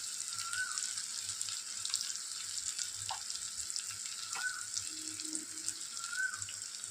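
Cumin and coriander powder sizzle softly in a pan, a faint, steady hiss with a few light scrapes from the stirring.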